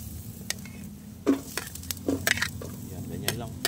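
Garlic and onion sautéing in hot oil in a pot, a steady low sizzle with a few sharp scrapes and clinks of stirring, quiet and close, no talk.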